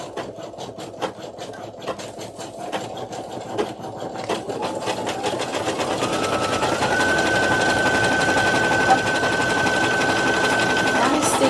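An embroidery machine works through an in-the-hoop design for vacation ears, its needle chattering steadily and rising into a sustained whine, close and fairly loud.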